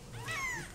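A small brown male kitten gives one short, high, rising-then-falling meow, close and fairly clear over a soft room background.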